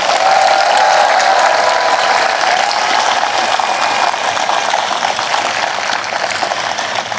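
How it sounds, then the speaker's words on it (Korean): Sustained applause from a big crowd gathered at a memorial ceremony for a former South Korean president, a thick steady clatter of many hands that eases slightly toward the end. "마음을 다해 큰 박수로 응원 부탁드립니다."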